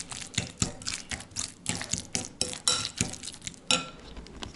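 A utensil mixes hot sauce into guacamole in a bowl, giving a rapid series of light clinks and scrapes with soft wet stirring, close and alone without talk.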